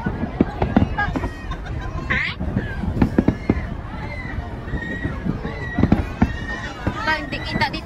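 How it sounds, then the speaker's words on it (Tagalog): Fireworks at an international fireworks competition in Macau pop and crackle in irregular bursts, with whistling rises, beneath the chatter of a crowd and people talking nearby. "So guys, nag-start yung fireworks."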